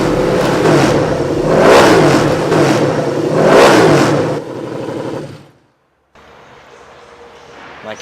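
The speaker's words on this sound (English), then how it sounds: "as the bike is fired up" A custom-built motorcycle engine fires up and revs hard twice in loud surges, then cuts off into brief silence before a quieter idle resumes.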